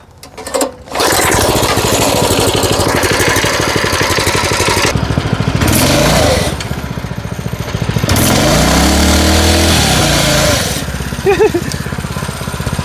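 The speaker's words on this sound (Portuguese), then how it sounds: "Já que esse pneu não tá valendo mais nada, vamos acelerar ele até estourar, vamos?" A 212cc bike pusher engine revs hard and holds a loud, buzzy roar while its tire spins against the ground, with brief throttle dips and a rising whine as the revs climb again.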